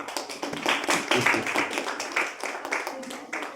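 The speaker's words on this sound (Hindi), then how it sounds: "जोरदार ताली अपने लिए" A group applauds themselves at a talking Bhagavad Gita demonstration event in India, steady overlapping handclaps at moderate distance with some murmuring voices mixed in.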